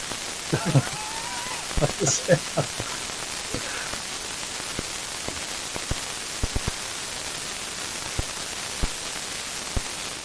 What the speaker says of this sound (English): Listen to the dulcet tones of this noise.